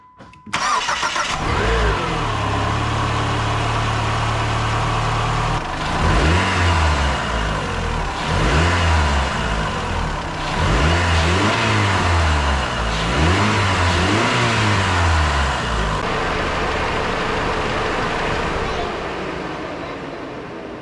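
A PT Cruiser engine, warmed up to temperature after maintenance, revs up and falls back in repeated strong pulls before settling to a steady idle, loud and close throughout.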